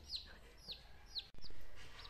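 Chickens in a box on a family farm in Mexico, giving three short, high clucks or chirps spaced about half a second apart, fairly faint, followed by a brief rustle.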